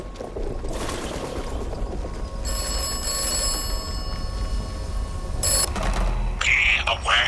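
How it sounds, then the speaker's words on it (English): Telephone ringing in the video game Atomfall, an electronic ring heard in a couple of bursts over game ambience with some background noise, moderately loud. "All right, let's get our phone call too."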